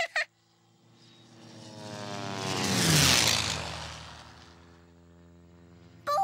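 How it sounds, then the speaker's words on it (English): An airplane roars overhead, swelling from faint to a loud peak and then fading away. Brief voices are heard at the very start and end. "did you see that plane? I saw it. Did you hear how loud it was?"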